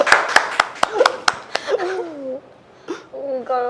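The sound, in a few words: people clapping hands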